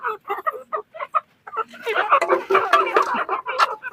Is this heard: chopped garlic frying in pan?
no